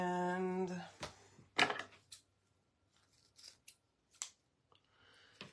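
Scissors snip through trimming material on a handmade snowman decoration, a few sharp separate cuts in a quiet room, close and crisp with pauses between them.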